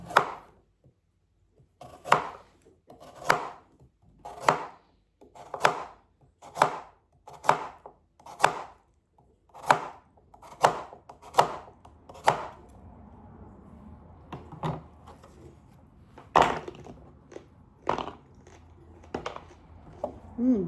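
A knife chops carrots steadily on a cutting board, about a dozen evenly spaced crunchy cuts, then slower scattered chops with some talking in between.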